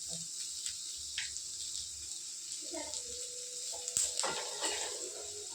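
Chicken masala spices roasting in a hot pan, a steady soft sizzle with a spoon stirring and scraping now and then, and a louder clatter of the pan near the end.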